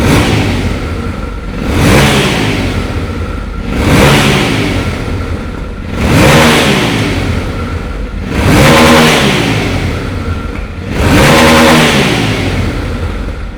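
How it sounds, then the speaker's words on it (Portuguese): A Yamaha Ténéré motorcycle with its original exhaust is revved five times at roughly two-second intervals, each throttle blip rising to a loud rasping roar and falling back to idle, close and with no talking. "E se liga só o ronco dessa moto com o seu escapamento original."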